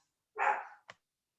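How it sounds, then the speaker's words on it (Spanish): A single dog barks once, a short rough woof followed by a quick clipped second yelp, close and alone against silence. "mi perro se puso medio complicado. Le da por ladrar justo hasta ahora."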